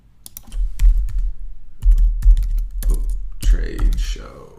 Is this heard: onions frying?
no